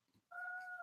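A cat meows once, a long drawn-out plaintive call after a brief faint sound, close and loud, following scolding for being punished and kept from going outside.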